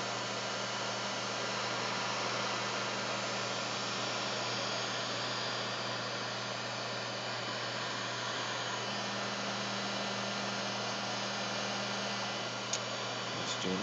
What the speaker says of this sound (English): I'm just going to go ahead and apply some heat to this tube